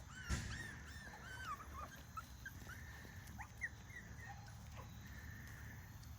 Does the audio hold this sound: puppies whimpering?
yes